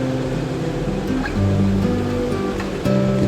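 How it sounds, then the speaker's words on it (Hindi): Sea waves wash against the Haji Ali Dargah shrine in Mumbai, a continuous loud roar of surf with swells rising and falling, and no voices. "लहरें दिख रही हो जो टच कर रही है दरगाह को।"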